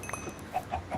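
Short bursts of clucking from chickens in a survival video game, three or four quick clipped calls in about a second, fairly faint over a soft background hum.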